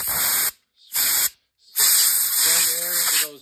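Compressed air blasts into a weed eater carburetor's ports in two short hissing bursts followed by a longer sustained spray, close and loud, with a brief whistling tone near the end.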